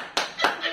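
Three sharp hand claps, close and distinct, spaced roughly a quarter second apart in a quick burst.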